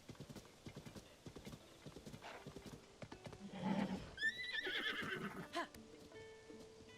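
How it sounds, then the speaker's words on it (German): Hooves clip-clop in The Legend of Zelda: Tears of the Kingdom as a horse walks, then neighs and whinnies clearly, with game sounds chiming around it. "Hat jemand ein Pferd bestellt?"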